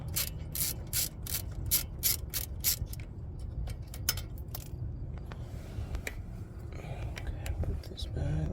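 Socket ratchet loosening a 10mm bracket bolt on the brakes of a 2010 Hyundai Genesis sedan: a fast run of sharp, close clicks at first, then slower scattered clicks and metallic handling sounds.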